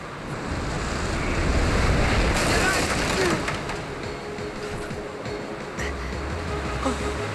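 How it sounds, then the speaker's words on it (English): Storm waves and gusting wind at sea in Kingdom Hearts, a steady broadband roar of surf with wind noise that rises and falls, while voices talk over it. "a storm's coming. I know. The waves are getting steep"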